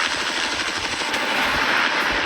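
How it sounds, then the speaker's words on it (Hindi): Helicopter flying over the sea near an island gives a loud, steady, dense rotor roar with rapid chopping texture, close and continuous throughout. "ये हेलीकॉप्टर हमारे बॉयज को ऊपर हवा में ले जाएगा"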